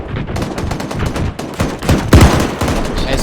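Loud sustained gunfire during military fireteam and squad training, dense overlapping bursts and shots rolling across an open hillside range, with heavier cracks partway through.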